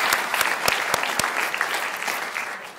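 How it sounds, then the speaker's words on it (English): Applause at a Teacher of the Year ceremony, a close, lively round of clapping with a few sharp individual claps standing out at the start, then gradually thinning and fading. "let's give him a round of applause, please"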